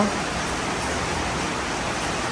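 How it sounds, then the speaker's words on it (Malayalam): Dense, steady rush of heavy rain, continuous and enveloping with no breaks. "അടിപൊളി മഴയാണ് പക്ഷെ നല്ല ഇടിയുണ്ട് കേട്ടോ"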